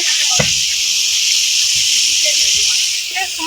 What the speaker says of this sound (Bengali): গাজর ভাজা হচ্ছে